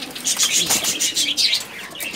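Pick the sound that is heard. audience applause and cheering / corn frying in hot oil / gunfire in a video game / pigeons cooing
pigeons cooing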